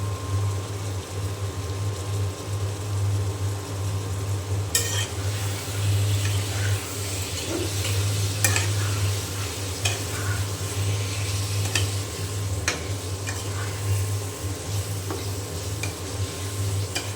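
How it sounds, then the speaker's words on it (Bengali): Meat stirred into oil-separated fried spice masala in a pan at night, a steady close sizzle with scraping stir strokes and occasional sharp utensil taps against the pot. "আমি এখন এই যে গোশ দিয়ে দিলাম"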